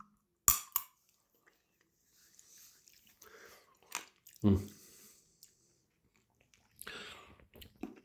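A watermelon seed is cracked between the teeth and chewed, giving a few short, close crunches and soft mouth sounds separated by quiet gaps.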